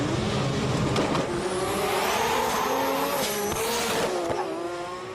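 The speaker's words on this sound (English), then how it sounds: "Twin HKS 3240 turbos have become the most popular setup for drag GTRs." Drag-racing Nissan GT-R with twin HKS 3240 turbos roaring loud and close, engine note climbing through hard acceleration with rising harmonics and a brief tyre squeal, continuous with no talk.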